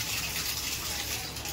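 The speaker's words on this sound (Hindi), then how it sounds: "पानी का प्रेशर अच्छे से आ रहा है।" Water rushing from a newly fitted bathroom diverter tap, a steady, even gushing stream with good pressure, continuous and fairly close with no talking.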